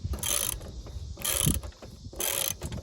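A 22 mm nut and bolt on a mud mixer is tightened with a ratchet, giving three bursts of rapid clicking spaced about a second apart, close and fairly loud.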